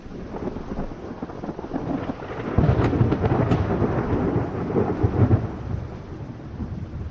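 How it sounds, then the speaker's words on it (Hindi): Rolling thunder with steady rain in a cartoon's first-rain scene, a low rumble swelling louder midway and holding over continuous rainfall, with no voices. "ये तुम्हारी पहली बारिश है।"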